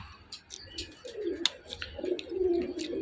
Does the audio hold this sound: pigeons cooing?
yes